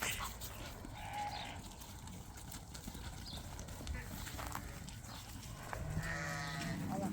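Lambs bleat now and then while being sorted for market, set against steady farmyard noise and a few hoof clatters, with people talking nearby.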